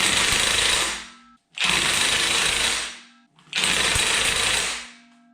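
Impact wrench bursts on the main timing bolt of a BMW engine during a rebuild: three loud, sustained rattling hammer bursts, each about a second long, separated by short pauses, up close.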